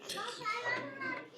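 A toddler screams and shrieks in a hotel restaurant, high-pitched wavering cries that carry on for the whole moment, fairly close and fairly loud.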